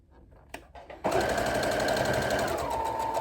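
A sewing machine stitches a seam on a viscose midi dress. A few soft handling clicks come first, then the motor starts with a close, steady whirring hum that runs continuously and shifts slightly in pitch near the end.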